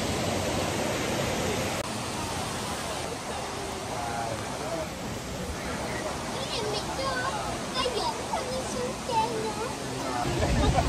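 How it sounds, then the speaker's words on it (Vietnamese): Steady broadband rush of Multnomah Falls, a tall waterfall in Oregon, filling the scene continuously at close range, with a murmur of people and voices talking faintly underneath. "Đây là thác nước nổi tiếng ở bang Oregon nè."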